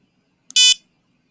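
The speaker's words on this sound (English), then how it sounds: "So short buzz is selected, and the on event is pressing button L." A programmable board's buzzer gives a single short, loud electronic buzz with a tiny click just before it, alone against silence.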